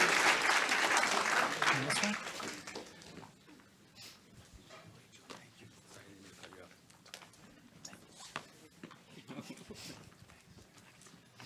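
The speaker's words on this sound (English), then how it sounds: "Let's give it one more round of applause." Applause for a panel at an energy innovation forum starts strong, then drops after about three seconds to scattered faint claps and room noise.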